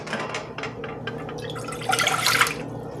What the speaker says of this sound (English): We're going to add 1 cup of boiling water to these.